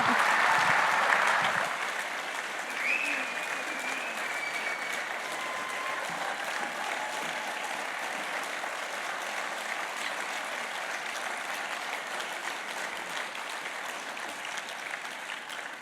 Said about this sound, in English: A massive round of applause for the legend.